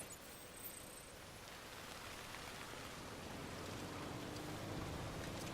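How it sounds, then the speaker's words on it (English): Extremely heavy rain in the video game Death Stranding, a dense, even hiss of downpour that holds steady and swells slightly louder toward the end, with no voices. "Extremely heavy rain, pretty much the entire way."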